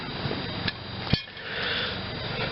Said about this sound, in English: I'll have to go in the middle here and hammer.